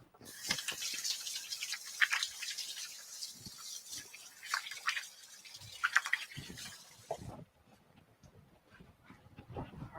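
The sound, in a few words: washing hands under running tap water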